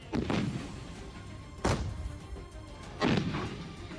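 Russian tanks firing shells during an attack on Ukrainian forces: three heavy booming blasts spaced over a few seconds, each a sharp broadband thud with a rumbling decay, loud and without speech.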